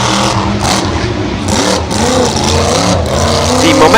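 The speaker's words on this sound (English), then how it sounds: "I love the sound of this truck. Oh, the exhaust is clearly built for amazing sound," A Monster Jam monster truck at a stadium event roars loudly, its engine revving hard and surging continuously with a raw, throaty exhaust note throughout.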